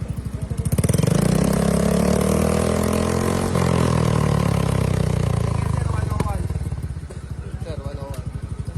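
A motorcycle exhaust runs during a decibel meter check, the engine loud and near, swelling with a revving surge before settling into a rough idle, with a voice speaking over it.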